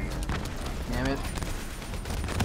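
Dense, continuous gunfire in the final campaign mission of Call of Duty: Black Ops 3, with rapid bursts and heavy impacts layered over one another at a steady loud level.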